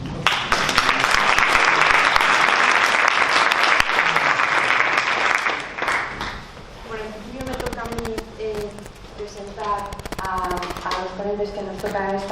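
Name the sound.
audience applause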